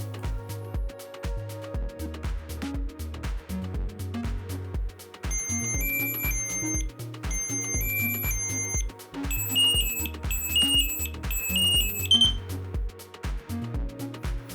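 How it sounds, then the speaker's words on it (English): A Dräger AirBoss Sentinel PASS device sounding its pre-alert alarm, a loud repeating pattern of electronic beeps and rising shrill tones over a pulsing low rhythm, running continuously and close. "Once the pre-alert starts, we'll shake the AirBoss Sentinel to make sure that the alarm is canceled."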